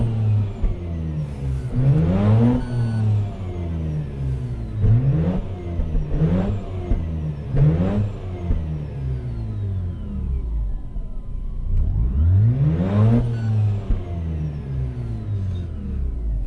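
A Mazda RX-8 rotary engine revs hard several times, each rev climbing to a high whine then dropping back to a low idle rumble.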